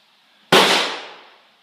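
A single sharp shot from a Vudoo V22 Ridgeback rifle cracks out at a 50-yard target. It comes after a quiet moment, then decays away over about a second.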